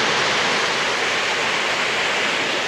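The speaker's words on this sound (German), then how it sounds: "Da hinten ist nämlich ein Wasserfall." Steady broadband rushing of a waterfall, a constant hiss-like roar with no breaks, heard alone at close range.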